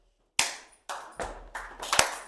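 Hands clapping overhead during a morning yoga exercise, five sharp, loud claps at close range, coming at a quickening irregular rhythm with no talk.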